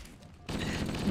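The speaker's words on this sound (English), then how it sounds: "Someone is shooting at me, and I don't like it." Rapid gunfire in Halo 1, assault rifle or plasma rifle fire: a quiet lull, then a sudden dense burst of continuous shooting that holds steady and close to the end.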